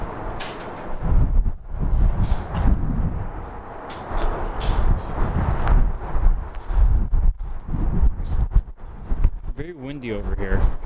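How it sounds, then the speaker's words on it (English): Gusty wind buffets the microphone with a constant rushing roar inside the abandoned Fisher Body Plant in Michigan, with a voice speaking briefly under the noise. "Very windy over here."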